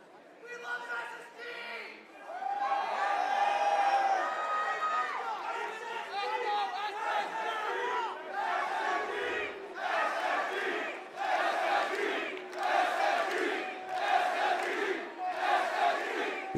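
Crowd at a Rainbow Six Siege esports match cheering and shouting for the hometown team, loud swelling roars and chants in repeated bursts, with commentary voices over the noise.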